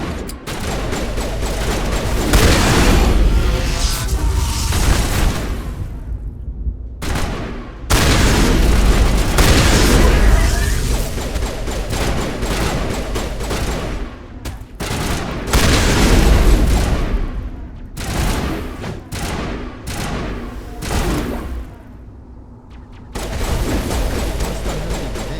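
Rapid gunfire and heavy explosions from combat in the Mass Effect video game, loud and nearly continuous with dense bursts and booming blasts, dropping out briefly a few times before resuming.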